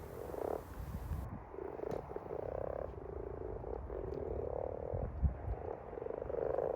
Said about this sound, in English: The croaking noises that you can hear are the male frogs